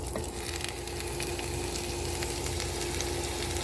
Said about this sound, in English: We got a nice little sizzle going on.